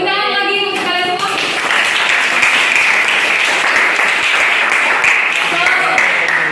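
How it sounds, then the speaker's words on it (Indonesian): Students in an English classroom break into applause, a burst of lively clapping that swells and holds steady, close and fairly loud, with a voice speaking briefly over its start. "Tepuk tangan lagi untuk kalian semua"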